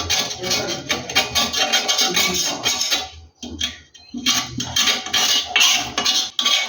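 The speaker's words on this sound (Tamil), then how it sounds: "நான் இதை ஃபுல்லாக சுற்றிலும் க்ளீன் பண்ணிவிட்டு வரேன்." A dosa griddle's oily edges are scraped clean with a metal tool, giving harsh, close rasping and clinking strokes in uneven bursts, with a short quiet gap partway through before the scrubbing resumes.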